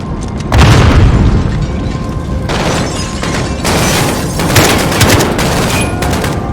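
Grenade explosions in the Call of Duty Modern Warfare game, heavy booming blasts with rumbling bursts and scattered gunfire, loud and continuous without speech.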